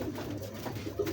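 A pigeon coos softly at close range in a short, faint murmur of low coos.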